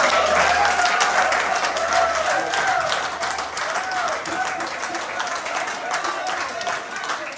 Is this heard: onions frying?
no